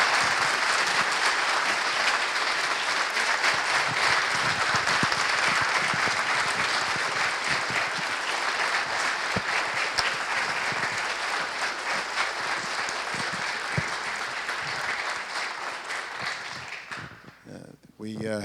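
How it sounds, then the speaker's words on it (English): A lecture-hall audience gives a long, steady round of applause for an ambassador, dense clapping sustained for over fifteen seconds before tapering off abruptly at the end. "Let's give a round of applause for the ambassador."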